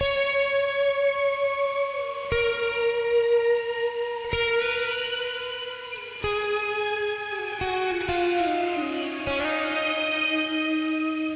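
Distorted electric guitar through a Joyo Atmosphere shimmer reverb pedal, several sustained chords struck every couple of seconds, each ringing out with a bright shimmering wash and long tail, played alone and up close.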